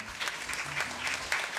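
Audience applause for a Turkish folk song performance by singer Tülay Alparslan, steady dense clapping from a crowd filling the short stretch without pause.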